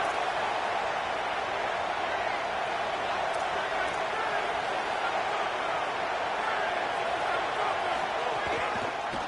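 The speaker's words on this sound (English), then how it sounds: "Listen to this crowd noise. This stadium is vibrating." Dense, steady roar of a packed stadium crowd at a UGA vs Texas college football game, a loud continuous wash of cheering that holds level throughout, with broadcast commentary likely blended underneath.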